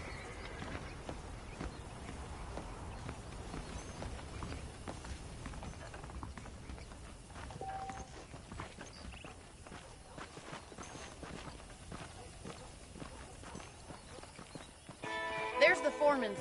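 Horse hooves clip-clop steadily on a dirt path in the Western video game Red Dead Redemption, moderately near beneath an ambient score, with a brief louder flourish near the end.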